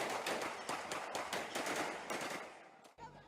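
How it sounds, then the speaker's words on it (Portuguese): Gunfire of different calibers near a samba school in the north zone of Rio de Janeiro, rapid bursts and single cracks rattling in quick succession, loud and continuous before breaking off abruptly near the end. "É possível ouvir disparos de diferentes calibres."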